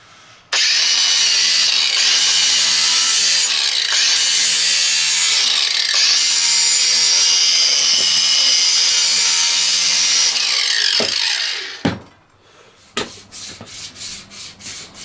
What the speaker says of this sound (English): doing a bit of hand sanding now